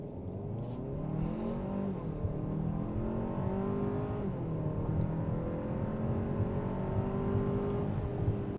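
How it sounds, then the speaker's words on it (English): 2024 Hyundai Santa Fe accelerating at full throttle, a continuous engine roar whose pitch climbs through gear changes over several seconds, heard steadily from the cabin without speech. "Throttle all the way."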